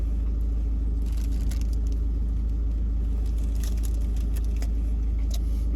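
Steady low engine rumble fills the inside of a hot car as it drives off, a constant loud drone with faint rattles and clicks above it and no talking.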